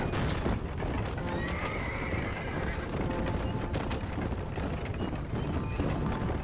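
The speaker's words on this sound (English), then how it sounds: "Come on, one horse. Take this thing all the way to New Orleans." In the Red Dead Redemption video game, a horse hauling a wagon whinnies while its hooves clop steadily beside creaking wheels and rattling mechanisms, all close and continuous under a dense game soundscape.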